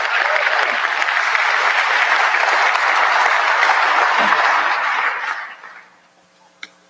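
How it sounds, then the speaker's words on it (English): An audience claps steadily for several seconds, the dense applause filling the room before tapering off and fading to near silence. "let's give a round of applause to our total force"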